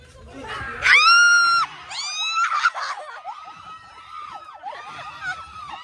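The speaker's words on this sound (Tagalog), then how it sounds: "Ang tagal niya sumigaw!" A person at a Christmas party screams loudly in long sustained bursts, high-pitched and wavering, followed by further drawn-out yells and whoops as a lively crowd makes noise around them.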